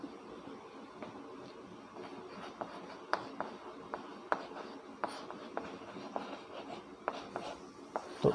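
Chalk tapping and scratching on a classroom board as a maths condition is written, a steady series of short clicks and strokes, fairly faint and close, with no talking.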